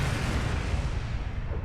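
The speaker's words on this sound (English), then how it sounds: "The bomb may have gone off in my hands." A bomb goes off in the Star Trek Online video game, a dense, rumbling blast that fills the whole moment with sustained low-end roar and crackle, loud and close with no voices over it.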